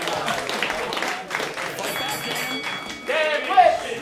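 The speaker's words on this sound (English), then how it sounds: "Give him a round of applause, ladies and gentlemen." Audience applause at a comedy podcast taping, a broad patter of clapping running under an overlapping voice, swelling louder near the end amid crowd noise.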